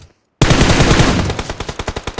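Battle royale video game gunfire bursts in suddenly after a brief silence: loud sustained automatic fire that breaks into a rapid, evenly spaced string of individual shots.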